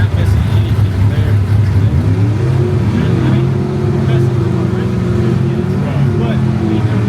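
An outlaw small-tire drag car engine revs on an old-school street surface, a loud sustained drone whose pitch climbs and settles under crowd noise, with people talking nearby.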